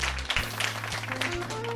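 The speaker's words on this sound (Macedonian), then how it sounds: "Ајде, аплауз за недобрите пејачи и пејачки од Супер Звезда." A television studio audience claps for the child singers of a Macedonian children's song show, a short patch of soft, scattered hand claps over a sustained low hum.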